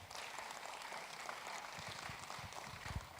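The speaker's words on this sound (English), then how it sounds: "Please give him another round of applause." A forum audience claps for a speaker in a steady, moderately loud round of applause, with a few sharper individual claps and light bumps standing out near the end.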